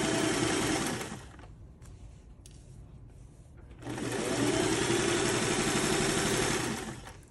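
A sewing machine stitches the zipper panel of a teen sling bag at eight stitches per inch, running in a steady one-second burst, pausing, then humming again for over three seconds, close and clear.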